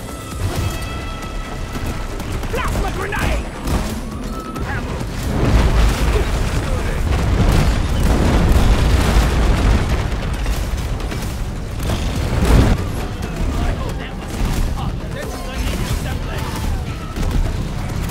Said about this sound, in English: Plasma grenade!